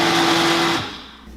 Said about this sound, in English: We're going to go ahead and put all of the juices right into our blender